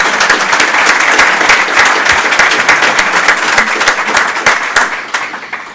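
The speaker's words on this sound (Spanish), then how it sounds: "Un aplauso." An audience claps at a business event on the regional economy, loud sustained applause from a crowd that holds steady and then begins to fade near the end.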